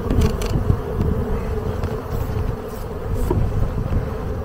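Honeybees buzz densely around a beehive during a honey harvest, a steady, close swarm drone with scattered individual insects passing nearby and no speech.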